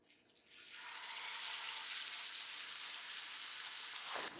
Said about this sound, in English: Prepare for the sizzle.